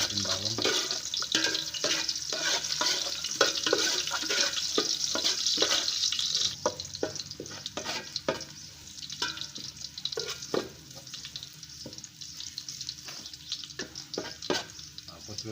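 Garlic sizzling and frying in a pan for a simple Filipino chicken dish, a loud crackling sizzle with stirring scrapes that settles into intermittent spatters and clinks, close up.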